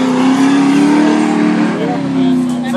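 V8 junior speedway car racing on a dirt track, a loud sustained engine drone with shifting revs close by, while a commentator talks over it.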